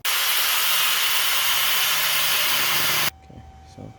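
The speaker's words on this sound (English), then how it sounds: "weld it straight to the muffler." Welding an exhaust pipe straight onto a Flowmaster muffler on a budget exhaust build gives a loud, steady broadband hiss and crackle for about three seconds, then stops abruptly, leaving faint background noise.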